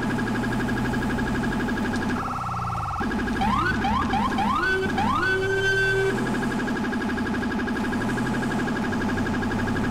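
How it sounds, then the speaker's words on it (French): Police siren from a New York patrol car in the video game GTA V with the LSPDFR mod, a loud steady wail that switches to fast rising yelps and whoops mid-clip before returning to a constant tone. "moi ce que je préfère dans la sirène de New York, c'est ça."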